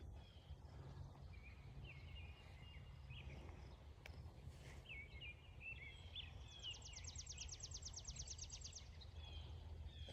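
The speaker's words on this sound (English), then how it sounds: "This is the sound of silence and the sound of birds." Birds singing in a quiet village, scattered chirps and short trills at a distance over a low, steady background hum, with a faint rapid trill near the end.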